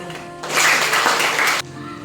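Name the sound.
applause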